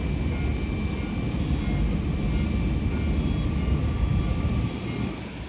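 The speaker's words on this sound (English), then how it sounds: "There's another plane going that way." An airplane at Tokyo Haneda airport gives a continuous broad engine roar, steady and fairly loud throughout before easing slightly at the end, with no talk over it.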